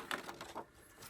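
Hand-sawing a wooden board for a timber-frame layout, heard as a few short, rasping strokes in quick succession, faint and close with no voices.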